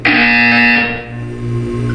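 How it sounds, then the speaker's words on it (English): Portal 2 buzzer sounding loud and harsh, a steady electronic tone lasting about a second, then fading into a lower hum. "You will hear a buzzer."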